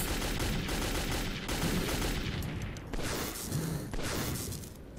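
Dense game gunfire in Metro 2033, with rapid bursts and shots layered over heavy rumble that continues loud and unbroken throughout.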